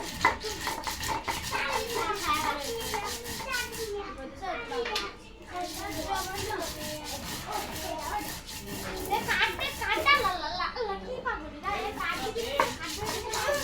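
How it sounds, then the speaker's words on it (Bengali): Mustard, coriander and cumin ground on a stone sil-pata in a home kitchen, a continuous rhythmic scraping and rubbing under lively children's chatter and voices nearby. "পাটায় মশলা বেটে নিচ্ছি বন্ধুরা"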